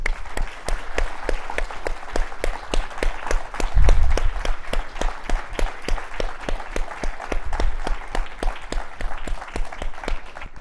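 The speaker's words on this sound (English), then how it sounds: "you get our round of applause and our gratitude" Sustained, even applause from a lecture audience after a central banking lecture, a steady wash of many clapping hands with a brief low thump partway through and no speech.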